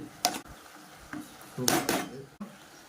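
A spoon scraping and clinking against a pan while stirring pork curry with tomatoes, a few distinct knocks and scrapes under a voice speaking.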